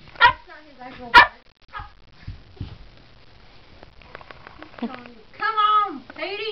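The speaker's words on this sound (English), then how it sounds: "He's barking." A small dog, chihuahua or wiener dog, gives a few short, sharp barks and yips at play, scattered rather than steady, with people talking and coaxing in between.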